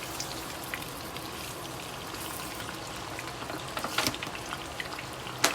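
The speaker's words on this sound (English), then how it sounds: "So I'm gonna let it sear on one side, then I'm gonna flip it around" Meat searing in a crowded frying pan for Guyanese boil and fry, a steady crackling sizzle with scattered pops that sharpen near the end, close and alone with no talk.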